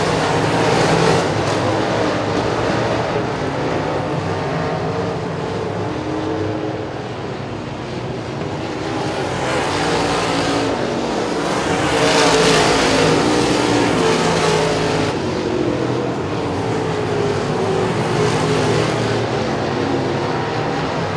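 Modified race cars roaring around a dirt oval during a feature race, a steady dense engine drone that swells and fades as the pack passes, loud and continuous with no talk.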